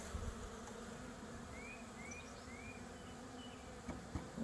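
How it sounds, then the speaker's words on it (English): Steady honey bee buzzing over a dense outdoor hum, with a few brief rising chirps in the middle and faint knocks toward the end. "a couple bees in the air. It'll happen."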